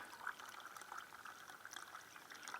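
Coffee is poured at a wilderness campsite in the Yukon, a faint, brief steady trickle of liquid heard alone against quiet outdoor air.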